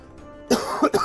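A single person coughs up close in a couple of sharp, throaty bursts during an indie game discussion show, after a brief quiet lead-in.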